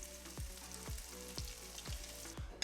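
Fish fries in a pan with a soft, steady sizzle, punctuated by about five regular low thumps or knocks as the food is moved, quiet and close with no talk.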